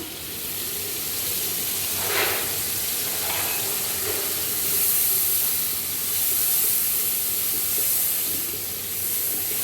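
Steady sizzling and steaming hiss rises from a pan of onions and spices for chicken masala after a splash of water is added, with occasional stirring scrapes.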